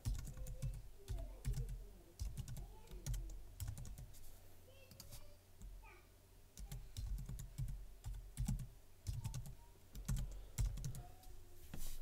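Someone types a wallet name and password on a computer keyboard: quick bursts of crisp, close keystrokes in uneven runs, with short pauses between groups of clicks.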